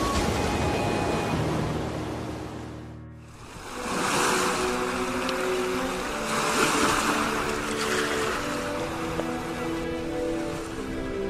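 Broad rushing sea waves and wind roll in as a large grand ship docks, briefly dropping away before surging back loudly and continuing as a steady wash.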